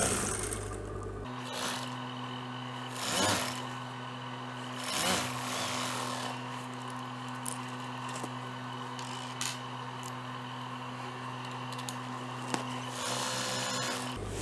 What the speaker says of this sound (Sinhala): කරුව කොටසින් මහන්න පටන් ගන්න.